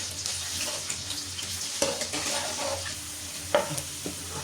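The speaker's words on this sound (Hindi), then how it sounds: "लहसुन को इस तरह से अच्छे से कूट लिया और इसे ब्राउन करेंगे अच्छे से" Crushed garlic frying in hot oil in a pan for a home-style dal fry, a steady sizzle broken by a few sharp scraping stirs of a spoon, close and alone without talk.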